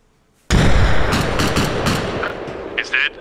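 Sustained burst of loud, close gunfire in the military shooter Arma Reforger, a rapid dense volley that keeps going for nearly three seconds before a few sharper separate shots near the end.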